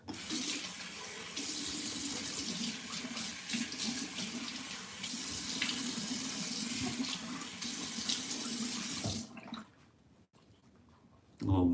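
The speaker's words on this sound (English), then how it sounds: "All right, so I'm gonna put some warm water on my face." Warm water runs steadily from a tap into a sink for face washing before a shave, a close continuous splashing flow that stops near the end, leaving a quiet room.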